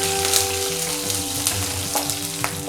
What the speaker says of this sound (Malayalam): ഇനി എരിവിന് വേണ്ടി 3 പച്ചമുളക്. ഇനി നമുക്കിതൊന്ന് ഇളക്കി കൊടുക്കാം.